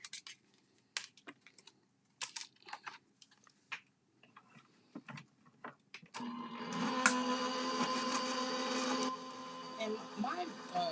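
Scattered clicks and taps give way to a loud, steady mechanical grinding and whirring as a die cutting machine cranks continuously, with occasional voice underneath.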